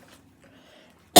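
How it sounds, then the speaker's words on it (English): A single sudden allergy sneeze bursts out sharp and loud at the very end, after near silence with only faint low background sounds. "My sneeze, allergy season."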